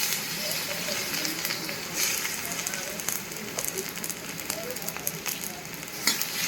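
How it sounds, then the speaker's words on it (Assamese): Onion frying in hot oil for a fish curry gives a steady, dense sizzle with crackling pops. The sizzle runs continuously at a moderate level and is close up. "পিয়াজটো আগতে ফ্ৰাই কৰি লওঁ মাছ বনাবৰ কাৰণে"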